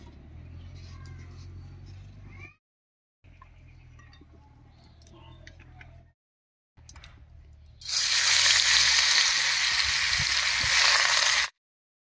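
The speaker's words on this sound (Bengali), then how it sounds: "কড়াইতে সর্ষের তেল দিয়ে গোবিন্দভোগ চালটা ভেজে নামিয়ে নেব।" Gobindobhog rice hitting hot mustard oil in a kadai over a stove: quieter kitchen sounds give way to a loud, sustained rushing sizzle that lasts several seconds and then cuts off.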